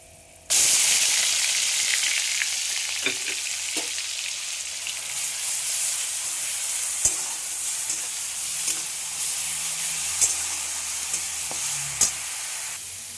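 Onion paste hits hot oil already holding cardamom, cloves and cinnamon in a pan and fries with a sudden loud sizzle that settles into steady hissing, broken by occasional scraping clicks of a spoon stirring, no voices.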